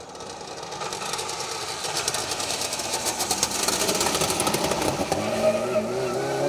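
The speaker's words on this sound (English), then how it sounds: "Interesting sounding car, that one. Anti-lag, flames from the exhaust" A rally car engine with anti-lag roars and crackles nearby on a rally stage, with rapid popping bangs from the exhaust over a continuous rough drone.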